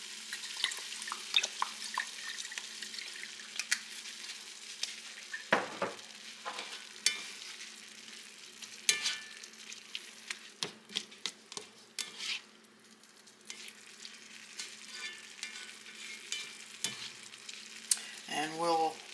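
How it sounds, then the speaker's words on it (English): Meat browns in a pan with Worcestershire sauce, giving a soft continuous sizzle broken by scraping stirs and occasional clinks, fairly quiet and close. "we'll let that continue to brown up until it's done"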